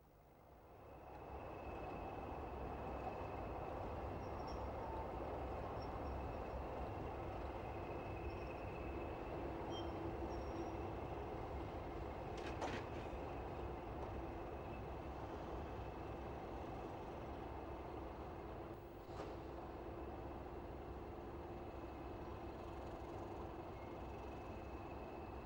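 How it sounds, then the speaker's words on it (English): A Class 31 rail freight locomotive leaves Bescot Yard with a steady engine drone and rumble that swells in at the start and holds for the whole stretch, with brief metallic squeals from the wheels. "one Class 31 named is a rail freight machine and is seen leaving Bescot Yard."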